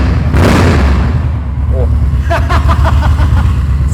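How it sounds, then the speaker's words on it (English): A motorcycle engine rumbles loudly and close, revving with rising pitch, while voices can be heard over it. "Give it a good rev."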